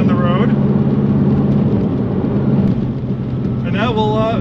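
Steady road and engine drone inside a 2005 Subaru Impreza WRX STi sedan cruising at 60 mph on a highway, loud and continuous, with someone talking over it at the start and end.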